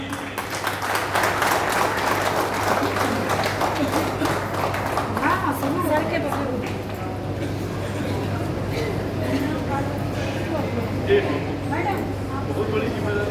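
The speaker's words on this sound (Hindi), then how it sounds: "जोरदार ताली प्लीज" A crowd in an audience claps as a guest is called onto a stage: loud, busy applause for the first several seconds, then thinning and fading while voices carry on under a low hum.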